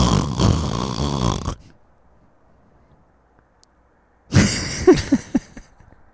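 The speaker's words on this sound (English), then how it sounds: "all I got was a snore" A person snores heavily and close by, with a long rumbling inhale, then a quiet pause, then another burst of snorting, rattling breaths.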